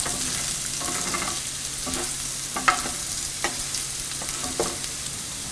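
Sweet potato and bacon frying in a pan, a steady close sizzle with light stirring scrapes and clicks recurring every second or so.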